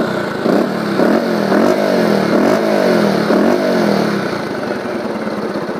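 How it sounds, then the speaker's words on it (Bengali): A second-hand Bajaj Pulsar 150 motorcycle engine, just self-started, revs up and down in several loud close bursts, then settles into a steady idle. "ইঞ্জিনের সাউন্ডটা দেখেন"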